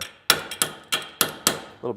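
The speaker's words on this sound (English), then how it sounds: "you can take a brass hammer, you can give it a little bit" A brass hammer strikes a wrench five times in a slow, even rhythm, each blow a sharp close metallic knock that decays quickly, followed by a softer tap.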